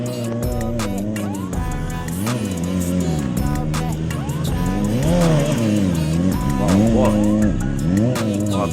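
A Yamaha T-Max turbo scooter revs loudly and close by during stunt riding, its engine pitch climbing and falling in repeated swells, with voices mixed in.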